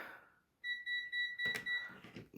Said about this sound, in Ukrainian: Це клещі мої пікають